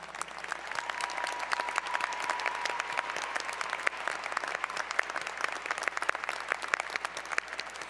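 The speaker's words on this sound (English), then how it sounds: "That does not seem like enough applause for the faculty." Steady applause from a graduation audience honoring faculty at a university baccalaureate ceremony, dense clapping throughout at moderate distance with no speech over it.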